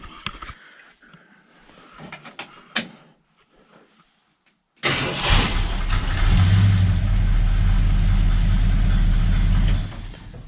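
A 1972 Sport Custom engine cranks after a few faint clicks and shuffling, then catches and settles into a loud, steady close-up idle before cutting off near the end, with no talking.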